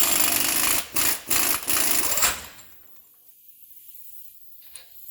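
An impact gun with a 36mm socket hammers off the axle nut on a 2011 Chevrolet Avalanche LTZ, a loud, close, rattling burst broken by brief pauses, then it stops and only quiet shop ambience remains.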